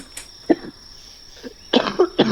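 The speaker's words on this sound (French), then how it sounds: "il y a ma soeur qui tousse" A girl coughs in a short run of dry bursts: one faint cough, a pause, then a louder cluster of three or four coughs close to the microphone, with a faint insect-like chirp in the quiet background.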